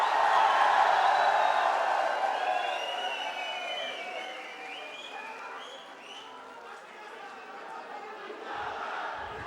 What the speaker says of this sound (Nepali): राष्ट्रिय स्वतन्त्र पार्टीलाई जोरदार तालीले स्वागत गरिदिनु होला